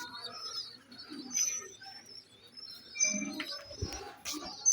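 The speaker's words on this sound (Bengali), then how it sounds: "এই যে এই পায়রাটা দেখুন, কালকে ধরা পায়রা।" Pigeons coo softly in low, rolling bursts nearby, with some thin chirps and light rustling between the calls.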